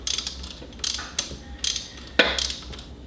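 A ratchet turns a bolt back into a Porsche 996 during alternator replacement, with four short bursts of rapid clicking separated by brief pauses, close and fairly loud.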